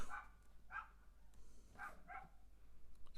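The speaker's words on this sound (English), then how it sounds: "next door's dogs are now barking" Neighbouring dogs next door bark in a few separate short bursts, fairly faint and distant, with quiet gaps between the barks.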